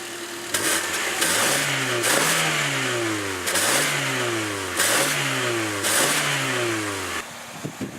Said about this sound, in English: I'll do a couple rev clips, but I don't think it's gonna be too loud.